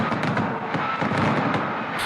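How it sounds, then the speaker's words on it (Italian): Fireworks burst over a crowd in Piazza Duomo, Catania, as Sant'Agata appears during her feast, making a dense, continuous crackle of pops and bangs with no pauses across the whole moment. "salutata da un tripudio di applausi e fuochi d'artificio"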